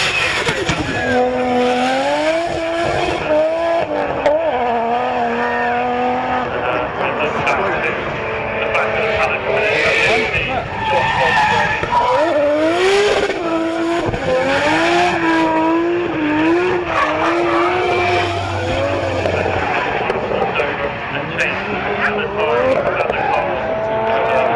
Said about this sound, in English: He'll be coming out very, very shortly in that Driftworks R32 Skyline.